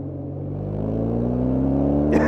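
A 2025 BMW R12 G/S motorcycle engine rises steadily in pitch as it accelerates up to road speed, a loud, close, continuous drone with a brief rustle at the very end.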